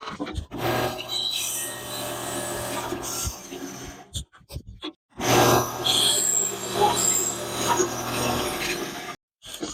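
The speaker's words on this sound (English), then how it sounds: "I'll use my bandsaw, and we'll cut off the rest" A bandsaw cuts off the excess wood from a homemade adjustable drill press jig, a loud steady whine with a low hum in two long runs broken by brief pauses and near-silent gaps.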